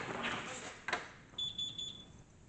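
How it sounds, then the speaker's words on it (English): A faint series of high electronic beeps, evenly spaced, after some brief shuffling and rustling noise. "Definitely just heard a beep noise."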